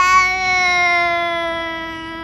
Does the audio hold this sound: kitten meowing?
yes